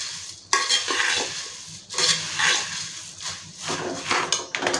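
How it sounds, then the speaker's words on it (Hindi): Puffed rice (murmura) mixture stirred in a pan for a chivda snack, a dry rustling scrape with irregular clinks of a spoon against metal, fairly close and continuous with no talk. "ये मुरमुरा डाल के हमने मिक्स कर लिया।"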